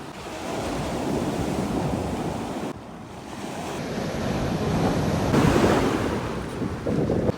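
Strong sea surf roars continuously along the shore where crab fishers cast their nets, a loud, wind-buffeted wash that swells and eases.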